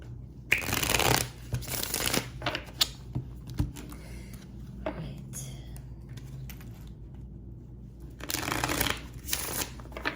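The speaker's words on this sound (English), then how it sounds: "I'm going to shuffle the cards first." Tarot cards being shuffled by hand in close, papery riffling bursts, with a quieter stretch of light handling and rustling between them before a final burst.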